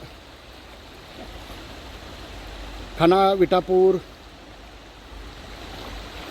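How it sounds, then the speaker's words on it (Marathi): Water gushes steadily from a pipe inside the Khambale irrigation tunnel of the Tembhu project near Karad. The flow makes a constant broadband roar, and someone briefly speaks over it partway through. "या पाईपमधून हे पाणी येतं"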